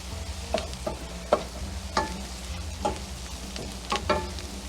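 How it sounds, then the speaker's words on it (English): Flour roux for cream of broccoli soup being stirred in a pot as it dries and cooks, with soft scraping strokes at an uneven rhythm over a faint sizzle, close and quiet. "once it gets dry, you want to cook it for about a minute because you want to cook that flour taste out of it"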